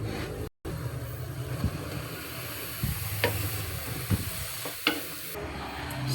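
Sliced sponge gourd (patola) sizzles steadily in a hot pan for a Kapampangan patola and ground meat dish, while a utensil stirs and scrapes the pan with several sharp knocks.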